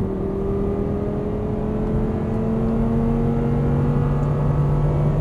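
Audi R8 engine pulling hard after an upshift, a steady loud drone with tones slowly changing pitch, heard from inside the car without talk.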